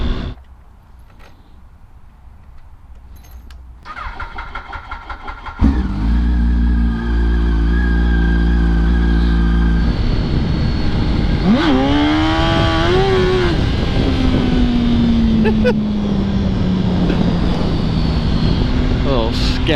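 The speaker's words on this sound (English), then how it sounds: "Little sketchy wheelie burnout going on there." A motorcycle revs hard through a wheelie and burnout on the street, a loud sustained engine roar with a rising pitch sweep partway through, preceded by quieter riding noise.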